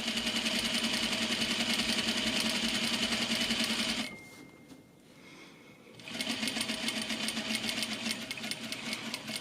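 A sewing machine stitching an exposed zipper into a garment at regular stitch length, running in a fast steady whir for about four seconds, stopping briefly, then starting up again close and loud.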